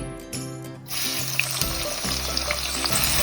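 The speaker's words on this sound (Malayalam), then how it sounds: "ഇത് ഗോൾഡൻ ബ്രൗൺ ആകുന്നവരെ നമുക്ക് ഫ്രൈ ചെയ്തെടുക്കണം" Sliced onions frying in oil for chicken biryani, a dense hissing sizzle that swells in after a short quieter start and continues evenly, close, with low background hum.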